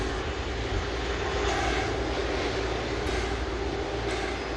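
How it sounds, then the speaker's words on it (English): Airbus A330 taxiing at Manchester Airport, a steady, loud jet engine hum and whine holding constant throughout. "Two Airbus A330s on the move."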